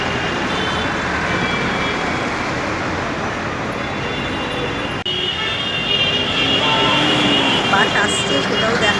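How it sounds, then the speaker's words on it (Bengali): Busy Karunamoyee bus stand in Kolkata on a winter morning, with a bus pulling in amid constant roadway traffic rumble, engines and occasional horn toots, steady and fairly loud. "বাস আসছে সেটাও দেখালাম।"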